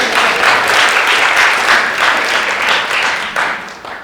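Lecture-hall audience applauding after remarks on disability and diversity, a dense steady wash of many hands clapping throughout, loud and close, fading slightly toward the end.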